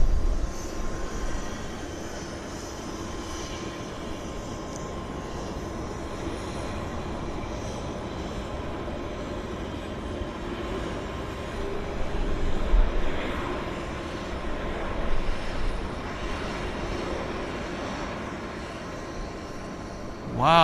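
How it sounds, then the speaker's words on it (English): A Cargojet Boeing 767 lands on runway 26 left at Vancouver airport, a steady, distant jet rumble and broad roar that swells gently toward the end and never stands out sharply. "Cargojet 767 landing here at YVR."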